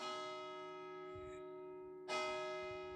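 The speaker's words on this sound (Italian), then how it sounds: "in questo momento stanno suonando le campane" Church bells ring in the village of Torlano, in the Nimis area, with a sustained ringing tone and a fresh bright strike near the end, heard from a distance and fairly faint.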